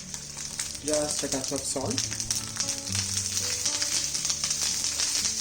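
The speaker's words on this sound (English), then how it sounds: "And we saute this on high flame." Capsicum and onion pieces sizzle steadily in hot oil over a high flame, a continuous close frying hiss while a voice speaks briefly over it.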